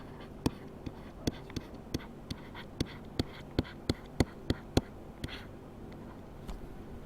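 Close up, a marker or pen taps and strokes sharply as algebra is worked out by hand, about a dozen distinct, fairly evenly spaced ticks over a quiet background, thinning out near the end.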